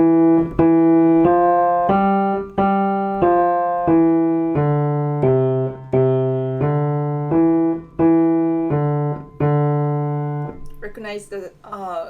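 A piano plays the Ode to Joy tune in single tones in a steady, even rhythm, a dozen or so notes, ending as a voice starts speaking.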